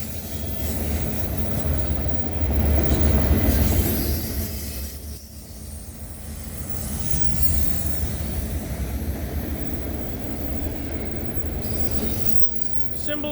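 A night freight train rolls steadily past the Cobourg VIA station in Ontario, with KCS 4027 running as a mid-train DPU. Heavy wagons rumble loud and close, wheels squealing faintly, and there is no talk over it.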